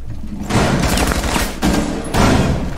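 In Rainbow Six Siege, loud, close gunfire erupts in three dense bursts of rapid shots separated by short gaps, with no voices heard.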